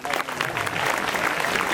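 A short burst of steady applause from schoolchildren gathered for an Independence Day function at a government senior secondary school, with some voices mixed in.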